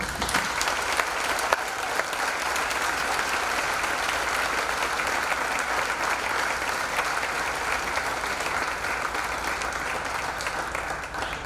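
Audience applause for seniors at a Foxcroft Academy senior awards and scholarship night, a dense, steady clapping from a large crowd filling the hall evenly from start to finish.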